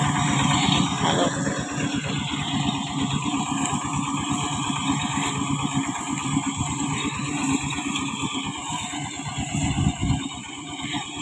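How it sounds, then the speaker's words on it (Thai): A walk-behind tractor fitted with a rice harvester attachment runs steadily in a rice field, its engine chugging in a continuous loud, even drone with a rapid rhythmic beat throughout. "อันนี้เป็นเครื่องเกี่ยวที่รถไถเดินตาม"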